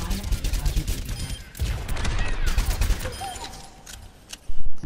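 Dense, rapid gunfire fired at a target in the Overwatch tutorial rattles on loudly, easing briefly before a final heavy burst at the end.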